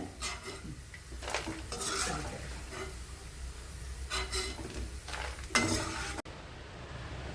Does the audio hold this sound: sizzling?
yes